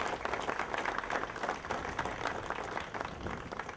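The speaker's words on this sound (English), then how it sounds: "Please give yourselves a round of applause" Audience clapping at a Portugal Day flag-raising event in Lowell, Massachusetts, a steady, moderately loud patter of many hands heard from close by, without speech.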